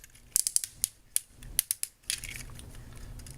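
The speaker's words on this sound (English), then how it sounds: "the hip joints are full ratchets" Ratcheting hip joints of a Transformers Combiner Wars Voyager Class Optimus Prime toy being moved, giving a quick series of sharp, close plastic clicks, then a softer rustle of handling.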